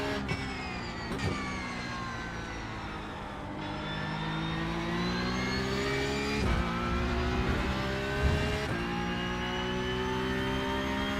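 Porsche Cup race car engine in a racing video game, revving steadily with harmonic whine rising and dropping through gear shifts, loud and continuous with no talk.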